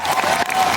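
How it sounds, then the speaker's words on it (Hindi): A loud burst of audience applause with some crowd noise at a live event, dense and continuous for under a second. "मैं चाहूंगा इनके लिए एक बार जोरदार तालियां"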